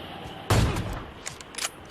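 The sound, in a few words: gunfire in a battle royale video game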